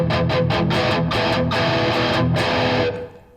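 Thin, articulate distorted electric guitar playing fast thrash metal riffs through a Randall Thrasher head with the bass rolled right off, loud and continuous before it cuts off and decays.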